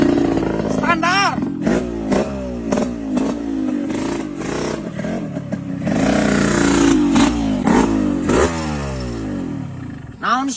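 A modified motorcycle revs with a rising and falling engine note beneath loud, continuous conversation between several men in a comedy sketch.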